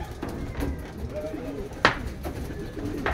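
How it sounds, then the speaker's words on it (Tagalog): Young racing pigeons coming into a loft during South Derby race training, with soft coos, wing flutters and a few sharp flaps or bumps close by, set against light background noise. "4 na mga kalapatids. Nagsipasok,"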